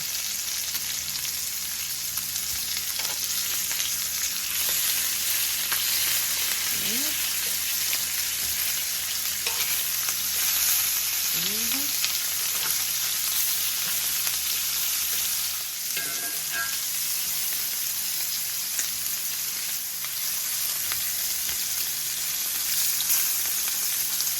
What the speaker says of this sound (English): I'm gonna start to turn them. Yeah, see that beautiful sear?